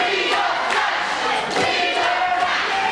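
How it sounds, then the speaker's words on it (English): A wrestling event crowd shouts and yells in a loud, continuous clamour with scattered thumps. "The crowd were shouting that they wanted Trash"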